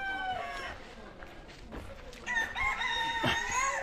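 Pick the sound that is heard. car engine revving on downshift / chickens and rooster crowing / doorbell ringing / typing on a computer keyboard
chickens and rooster crowing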